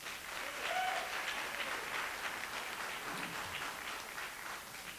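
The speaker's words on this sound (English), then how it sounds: "when you start off with applause, you know, that's a good sign" Applause at a public forum for a diversity and inclusion director as candidates are introduced, a steady crowd of hands clapping at moderate volume for several seconds without speech.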